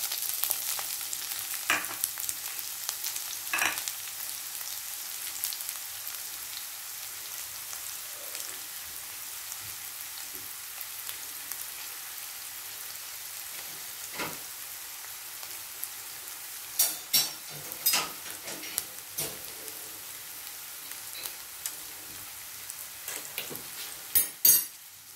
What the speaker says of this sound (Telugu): ఆయిల్ మరిగి ఉంటుంది, మనం ఆనియన్స్ వేసేసుకుందాం.